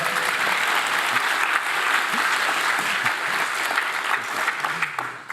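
Sustained audience applause at a live-streamed conference event, a broad crowd of hands clapping steadily throughout before fading slightly at the end.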